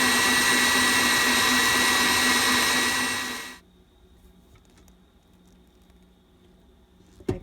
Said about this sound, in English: I'm going to add my whisk to my mixer and beat this until it forms stiff peaks